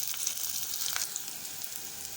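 Onions frying in heated cooking oil in a pot, a soft, steady hiss and crackle at moderate distance with no speech over it.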